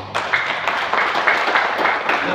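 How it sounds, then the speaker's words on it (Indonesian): A crowd claps steadily and continuously for a couple of seconds, a dense, even patter of many hands. "Kita tepuk tangan."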